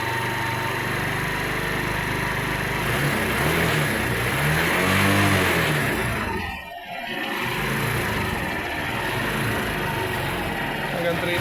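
A Barako motorcycle engine, near and loud, revs up to about 3,000 RPM with a rising and falling pitch, then briefly drops away before settling back to a steady idle, with talk at times.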